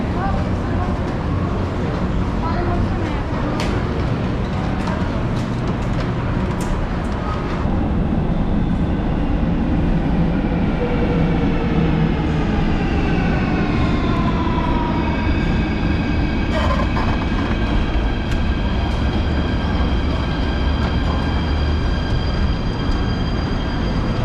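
Passenger train on the Athens to Paleofarsalos line rumbling steadily throughout, with rising wheel and motor whines and brief squeals over continuous track noise, and people talking in the background.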